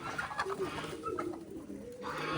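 Pigeons coo softly in short, repeated throaty calls, close by, with some faint background murmur.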